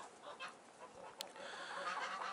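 Dekalb White laying hens in a poultry enclosure give soft, scattered clucks and brief honk-like calls over faint background noise, with one sharp click partway through.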